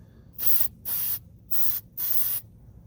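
Four short hissing bursts of an aerosol can spraying an oily rust-protection coating onto a 2006 Lincoln Town Car, each about half a second long, loud and close, with brief silent gaps between them.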